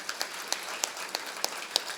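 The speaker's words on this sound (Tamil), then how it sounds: "நல்லா கைதட்டுங்க." An audience at a book festival in Perambalur gives light, scattered applause, with a handful of separate sharp claps spaced out over a soft background.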